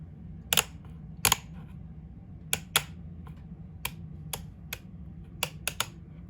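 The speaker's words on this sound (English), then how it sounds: "there's the speed switch thing. Got high, medium, low. Still clicks really well too." Speed switch on an electric fan clicking through high, medium and low, a series of sharp close clicks, some paired, over a steady low fan hum.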